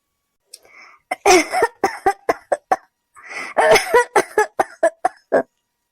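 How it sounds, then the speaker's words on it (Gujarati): Two fits of harsh, close coughing, each a rapid run of hacking coughs separated by a short pause. "એને અચાનક ઉધરસ આવે છે"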